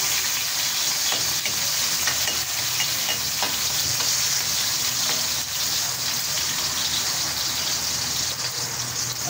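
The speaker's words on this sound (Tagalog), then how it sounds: "Inuuno ko po ang kamatis." Tomatoes sautéing in a hot pan for chayote with ground pork: a loud, continuous hissing sizzle with crackles and occasional stirring scrapes, close up and without talk.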